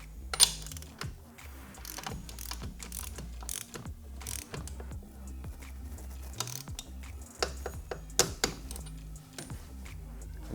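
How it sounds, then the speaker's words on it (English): Ratcheting clicks of a torque wrench set to 44 foot-pounds tightening the rear axle on a 2022 Honda Grom, with a run of close mechanical ticks and a few sharper clacks against a low steady background. "now I'm going to use a torque wrench"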